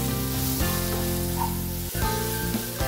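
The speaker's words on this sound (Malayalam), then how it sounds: "Mix all the spices together with the veggies in a very low flame." Spices and vegetables sizzle gently in a pan over a very low flame, with potato and fennel powder among the ingredients. There is a continuous soft frying hiss and a few brief stirring scrapes, and nobody talks.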